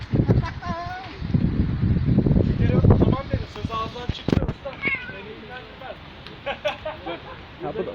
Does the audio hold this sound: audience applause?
no